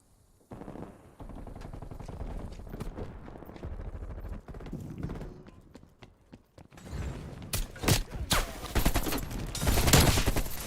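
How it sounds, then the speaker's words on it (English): Rapid video-game gunfire rattles in long continuous bursts, with sharp impacts of bullets striking a metal container growing louder and denser toward the end. "my bullets were hitting the container"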